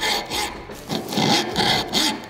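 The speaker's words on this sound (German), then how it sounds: "Wir sägen jetzt hier weiter, von der Seite." A hand saw cuts through the bone of a pork shoulder (Schäufele) from the side under firm pressure, giving steady, rhythmic rasping strokes, close and alone with no talking.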